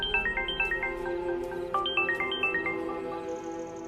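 A phone rings with an incoming call: a bright, melodic ringtone phrase repeats in quick stepping notes, clear and fairly close, with no voices over it.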